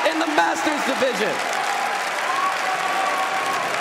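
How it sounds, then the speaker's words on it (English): An arena crowd at the Pokemon World Championship 2014 Masters Division bursts into loud sustained applause and cheering, while a commentator speaks excitedly over the start of it. "The crowd is on their feet."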